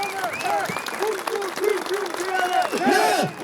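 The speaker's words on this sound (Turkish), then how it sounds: "Hepinizi alkışlıyorum" Applause from a crowd at an İYİ Parti political gathering in Bursa, steady clapping mixed with raised voices and chanting across the whole stretch, swelling louder near the end.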